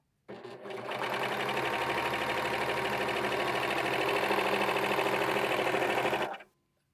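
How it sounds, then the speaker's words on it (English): A serger sewing machine runs continuously through tissue paper for about six seconds, a steady, loud, close mechanical whir with a fine rapid stitching rattle, starting and stopping abruptly. "but it sewed the tissue. It sewed it."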